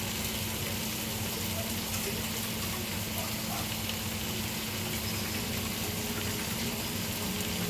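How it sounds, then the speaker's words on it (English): Hands being washed under a running kitchen tap during cooking, a steady, dense rush of water that stays constant and close the whole time with no break. "We're gonna wash my hands real fast."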